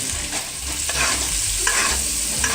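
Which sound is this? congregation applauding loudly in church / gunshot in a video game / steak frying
steak frying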